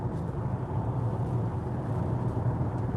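An MG S5 long-range rear-wheel-drive electric car with a 64 kWh battery cruises at night on a road trip to Geilo, giving a steady low cabin rumble of road and tyre noise with no voices.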